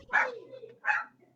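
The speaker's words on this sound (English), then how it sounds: "That's Chester barking." Two sharp dog barks, about a second apart, close and fairly loud against a quiet background.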